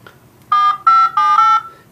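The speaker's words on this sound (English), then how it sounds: "let's quickly dial a random number here and hit send" Palm Pre smartphone keypad dialing a number: four quick DTMF tone bursts in a steady rhythm, clear and close, with no one speaking over them.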